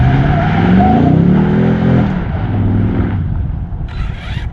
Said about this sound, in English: It's a nice sounding truck.